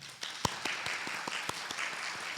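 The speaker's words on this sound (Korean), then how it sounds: "큰 박수로 환영하겠습니다" A small church congregation clapping to welcome a guest, scattered and uneven claps close by, moderately loud for a couple of seconds.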